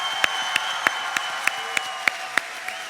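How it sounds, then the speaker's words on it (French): A conference audience applauds the Charmed actors at TGS Toulouse 2019, a steady wash of clapping punctuated by regular louder claps that ring out at an even rhythm throughout. "Je vous demande de les applaudir comme il se doit."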